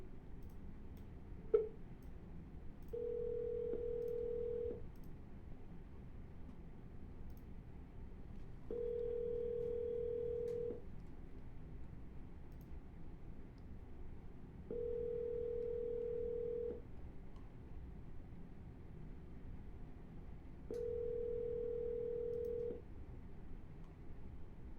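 A phone line repeats a steady electronic tone during an outgoing call, four sustained beeps about two seconds long spaced roughly six seconds apart over a low hiss, with a brief click near the start.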